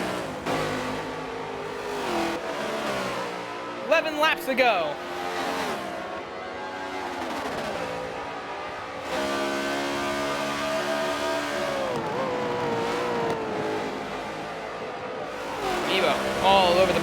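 Race cars running flat out on a circuit, engines revving and downshifting through a bus stop chicane as several cars pass in turn, with a commentator talking over the racing.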